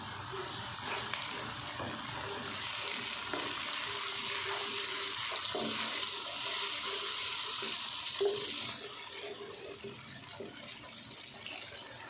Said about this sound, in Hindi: अब हम इसमें ये टमाटर की प्यूरी डाल देंगे